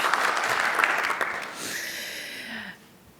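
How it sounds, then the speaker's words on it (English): A small audience at an ethics training session gives brief applause that thins out and fades, ending with a little laughter and chatter. "So a little round of applause that neither of us just fell down."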